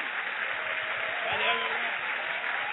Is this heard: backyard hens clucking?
no